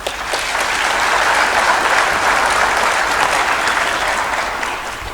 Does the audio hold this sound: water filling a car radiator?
no